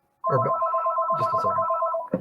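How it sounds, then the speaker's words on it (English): A telephone rings during an amateur radio club meeting: one steady, close electronic ring lasting about two seconds, starting abruptly, with a brief voice at the end. "Sorry about the phone."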